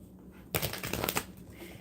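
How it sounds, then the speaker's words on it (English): Tarot cards being shuffled by hand: a brief riffle of rapid papery flicks lasting under a second, close and fairly soft, with quiet room tone before and after. "So, the original way you shuffle the cards are this, okay? You shuffle the cards."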